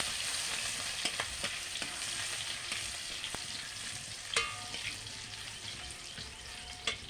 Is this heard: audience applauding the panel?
no